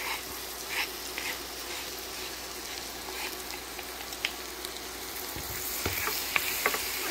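Two cloves of minced garlic frying in melted butter in a pan, a steady close sizzle with occasional clicks and scrapes of stirring over the hiss.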